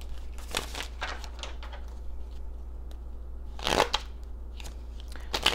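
Tarot cards shuffled and laid out in short bursts of riffling and slapping, with a louder flurry near the middle and again at the end over a steady low hum.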